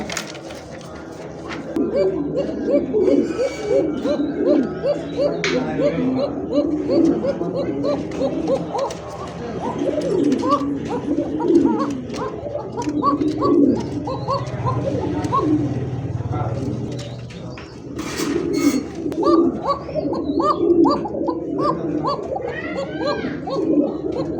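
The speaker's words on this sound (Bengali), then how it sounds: "কোকা ডাক শুনছেন, সেই লেভেলের ডাক, একেবারে অস্থির একটা জোড়া কবুতর।" A pair of Koka pigeons coo in repeated rhythmic bursts among other birds, with people talking and children's voices throughout.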